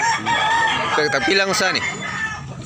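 Chickens and roosters at a market in Tabunok, Talisay, Cebu, clucking and crowing up close while someone briefly speaks over them.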